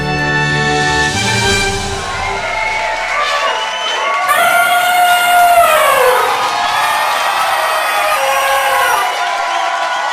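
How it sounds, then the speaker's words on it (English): Large crowd cheering and whooping loudly and continuously, a dense roar with excited shouts rising over it, sustained from start to finish. "the crowd cheers wildly"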